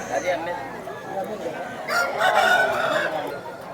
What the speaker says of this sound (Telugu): మంచి బ్రీడింగ్ క్వాలిటీ కలిగినటువంటి కోడిపుంజది.